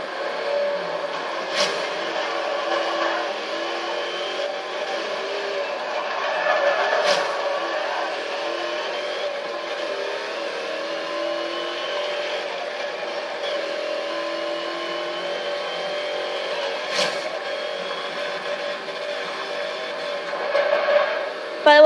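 A race car engine in Forza Horizon 2 drones steadily at mid pitch through a long replay, with a few sharp clicks and brief revving swells, running continuously without talk.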